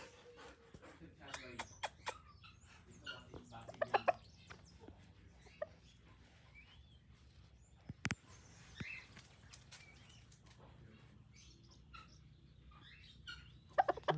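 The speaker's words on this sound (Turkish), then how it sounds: "Şurada da horozumuz var." A rooster on a farm in the Peruvian desert gives a few brief clucks and calls amid scattered bird and dog noises, fairly faint, while people talk nearby.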